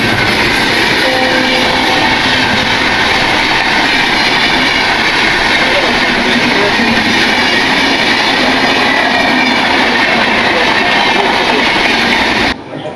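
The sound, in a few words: Nilachal Express train passing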